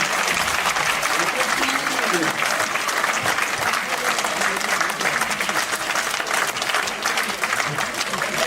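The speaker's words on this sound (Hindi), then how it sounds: "एक बार दोनों हाथ खड़े करके एक बार जोरदार तालियां मेरे सामने बजा दीजिए।" Audience at a Bhopal cultural society New Year gathering clapping hard with both hands raised, a dense, continuous burst of applause filling the room without pause.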